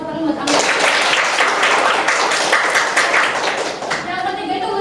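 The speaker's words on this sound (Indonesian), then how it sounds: "Tepuk tangan buat Amel." A classroom of students breaks into brisk applause for a classmate, a few seconds of dense close clapping that tapers off as a voice resumes.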